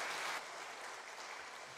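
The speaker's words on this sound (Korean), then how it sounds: "하나님께 영광의 박수 올려드리겠습니다." Congregation applause during a Sunday church service, faint steady clapping from a distant crowd, slightly louder in the first moment then holding an even wash.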